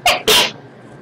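Two quick sneezes in close succession, loud and near, the second slightly longer, followed by quiet.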